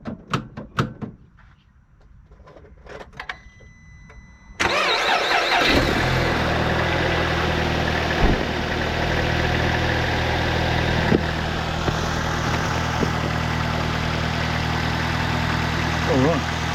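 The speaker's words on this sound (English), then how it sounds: "we've got the engine running, sounds nice and smooth" A few clicks and thumps in near quiet, then a used car's engine abruptly catches and settles into a steady, close, even idle that runs to the end.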